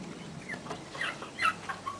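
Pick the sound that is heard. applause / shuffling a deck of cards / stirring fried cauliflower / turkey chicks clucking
turkey chicks clucking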